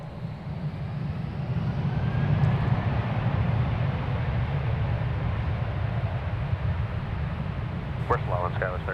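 An airliner taking off at DFW Airport, likely bound for Phoenix, gives a steady, broad jet roar with deep rumble that holds loud and unbroken throughout.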